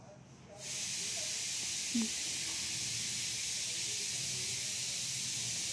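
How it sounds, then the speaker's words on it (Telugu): Chapati roasting in oil on a hot pan over high flame, a steady broad sizzling hiss that starts abruptly after a quiet moment and holds loud and even, with a faint tap partway through. "హై ఫ్లేమ్లో పెట్టి మనం చపాతీని కాల్చుకోవాలి"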